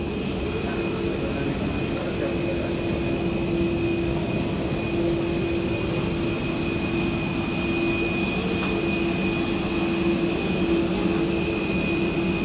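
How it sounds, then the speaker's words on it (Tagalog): An arcade shooting game blares a loud, steady helicopter roar with a constant whine and rumbling drone, unbroken throughout amid noisy surroundings. "Helicopter is coming."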